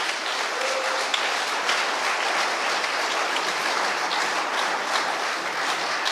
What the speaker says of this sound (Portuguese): Damos um aplauso a Cristo.